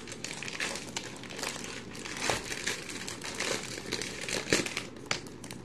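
Pokémon card pack wrappers crinkle and tear as they are pulled open, a busy run of close crackling foil rustles with sharper rips standing out near the middle and end.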